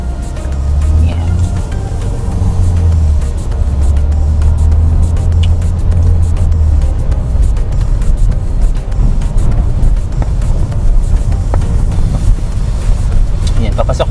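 Cars and buses on a road in Manila, heading toward Araneta City, make a steady low rumble of engines and tyres throughout, with wind buffeting the microphone.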